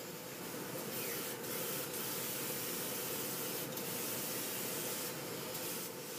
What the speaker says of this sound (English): I'm spraying it so it's not getting too wet